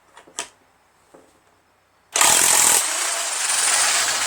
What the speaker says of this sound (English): Got my Harborfreight 1/2 inch drive impact and my Harborfreight 1 1/8 socket.